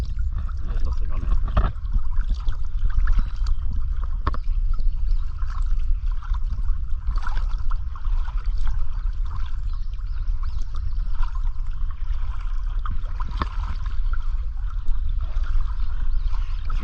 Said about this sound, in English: the water starts to pick up in pace as you get towards the Wyre